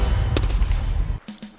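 Gunfire in Escape from Tarkov: a dense rumbling volley cuts off abruptly, followed by two sharper distant shots.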